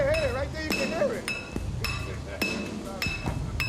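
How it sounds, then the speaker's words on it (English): A hammer striking a metal part to drive it into position on a skyscraper construction site, sharp ringing clanks at an irregular pace, close and loud, with a voice calling out between blows. "it's time to hammer it into position"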